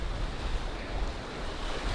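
Lake Superior waves wash over smooth shore rocks along a coastal hiking trail, a steady broadband surf rush mixed with wind noise, close and continuous, no talk.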